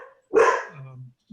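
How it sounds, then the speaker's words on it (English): Dogs bark from nearby: one loud bark followed by a lower trailing growl and the start of another bark, heard during a conversation. "there go my dogs"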